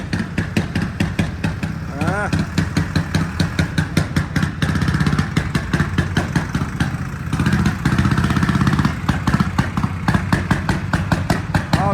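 A 130-year-old tractor engine in Italy thumps in a fast, steady, loud putt-putt rhythm up close, with a faint voice briefly heard over the running motor.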